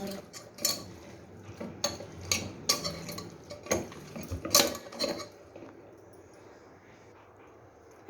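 Mutton tossed with salt and turmeric in a pan while a utensil scrapes and clinks against the metal in irregular close knocks, which trail off into quiet for the last few seconds.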